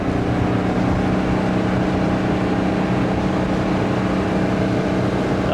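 A 1973 Cobalt boat with a 165hp engine, carburetor freshly rebuilt, running at speed: a loud, steady engine drone mixed with water and wind rush that holds constant throughout, with no talking.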